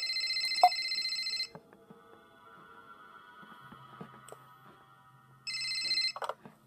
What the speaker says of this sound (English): Yay, we get a phone call.